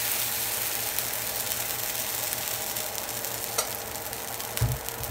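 Dosa batter cooking on a well-heated flat griddle (pan), giving a steady, close sizzle and frying hiss throughout, with a few light scraping or stirring knocks; no talking.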